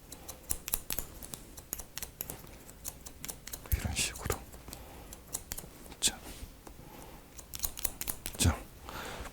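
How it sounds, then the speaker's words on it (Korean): Scissors snipping hair during a long side-part haircut that keeps the sideburns, a series of crisp close clicks in an uneven rhythm, with soft murmuring and handling noise around them. "가위는 내가 원하는 부분 딱 잡아서 자를 수 있는 장점은 있어요"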